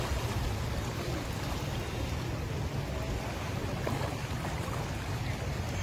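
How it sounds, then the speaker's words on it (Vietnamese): Swollen, fast-flowing Red River in flood in Lao Cai, a steady broadband roar of rushing water with heavy low rumble throughout, loud and continuous with no speech. "Và tốc độ dòng chảy thì đang chảy xiết hơn mấy tiếng trước."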